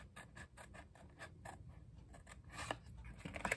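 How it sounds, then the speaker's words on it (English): Scissors snip paper along a 3/8-inch score line while a hostess gift is being made, giving a steady run of close, crisp cuts that grow louder and busier toward the end. "I'm going to go in at my mark and then I'm going to just cut along that"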